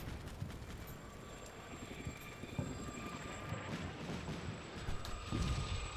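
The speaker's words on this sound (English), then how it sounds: "Sounds like a jet." Jet aircraft passing overhead in the Combat Mission: Cold War game, a broad airy roar with a thin high whine that rises and swells toward the end, heard on its own.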